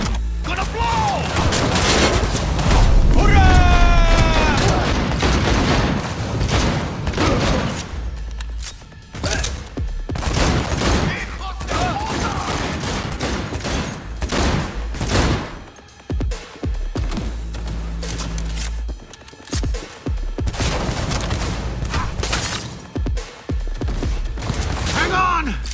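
Dense gunfire and explosions from a Cyberpunk 2077 firefight fill the whole stretch, with rapid bursts, heavy booms and loud continuous combat noise, and game voices shouting over the battle.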